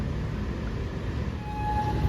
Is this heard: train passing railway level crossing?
yes